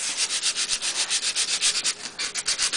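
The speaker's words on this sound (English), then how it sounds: "I'm going to take my sanding paper, and I'm just going to go over top of this" Rhythmic scratchy rubbing of sandpaper over a surface, quick back-and-forth strokes repeating steadily and close up.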